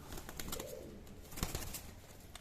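Female pigeons in a loft coo softly in short, repeated low calls, faint and close, with light rustling and a brief flutter among them.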